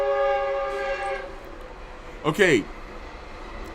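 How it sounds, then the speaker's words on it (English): A train horn sounds in long, steady blasts close to the tracks early in the morning, then fades out as someone says a word. "here comes the train early in the morning"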